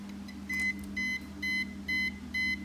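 An EMF meter alarm near fiber optic network equipment gives five evenly spaced, shrill electronic beeps over a steady low hum.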